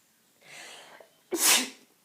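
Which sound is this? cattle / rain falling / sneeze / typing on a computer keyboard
sneeze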